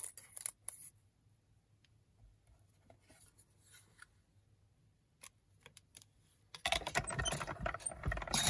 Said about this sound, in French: je vais faire mes 4 découpes avec ce papier-là.